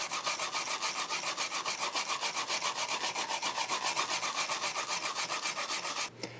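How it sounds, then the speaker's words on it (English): Contamination being scrubbed off the circuit board of an Epson HX-20 computer, heard as fast, even back-and-forth brushing strokes, loud and close, running continuously before stopping abruptly near the end. "So I'm going to scrub away at that and see if I can get some of that off"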